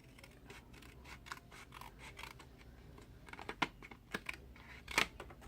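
Scissors snip paper while a triangle treat box is being made, a quiet series of short, crisp cuts at an uneven pace, close up and faint, with a few sharper snips toward the end.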